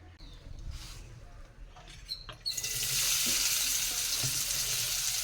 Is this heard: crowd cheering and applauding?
no